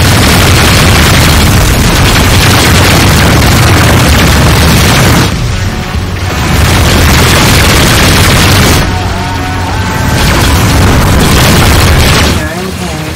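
Video game missile explosions booming one after another, loud and dense with rumbling low end and short pauses between blasts, while a voice calls out in-game alerts.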